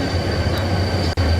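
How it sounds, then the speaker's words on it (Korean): Namdo Ocean Train pulling into platform 5 at Seoul Station, a loud close rumble of wheels on rail with a sustained high squeal over it and one brief dropout near the end. "5번 홈에서 잠시 기다리니 남도 해양열차가 들어와 미리 예약해둔 3호차에 몸을 실었죠."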